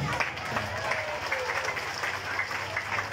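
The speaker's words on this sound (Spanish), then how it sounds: "Fuertes aplausos" Crowd applause breaks out at a neighborhood political rally, with many hands clapping in a brisk, uneven patter. A voice briefly talks over the noise, and a low hum sits underneath.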